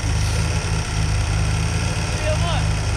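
Crash-damaged car with a crushed front end, engine running steadily and refusing to shut off, a loud low rumble throughout with people talking excitedly over it.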